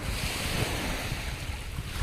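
Sea waves wash onto the shore at the coast of Mithivirdi village, a constant broad rushing surf mixed with wind buffeting the microphone, fairly soft and uninterrupted.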